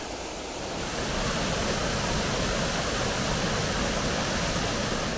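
A waterfall on a river beneath the M4 motorway roars continuously, a loud, dense rush of falling water that holds steady throughout with no voices.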